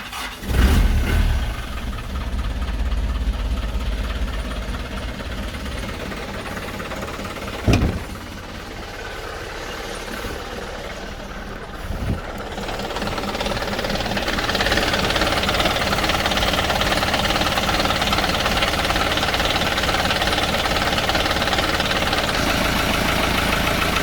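A car engine, jump-started from a Lokithor JA301 jump starter pack, cranks and catches, then settles into a steady idle; partway through, the revs rise slightly and hold at a higher, even drone.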